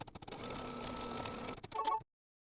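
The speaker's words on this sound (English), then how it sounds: "The first thing I'm going to stitch is the outline showing where to place the batting." An embroidery machine stitches the batting placement outline for a mug rug, whirring steadily and close for about two seconds before a few clicks and a sudden stop.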